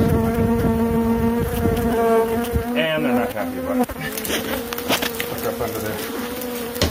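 A dense swarm of honeybees drones loudly and steadily at close range while a hive is cut away from inside a chicken coop, with brief speech and scraping noises over the buzzing.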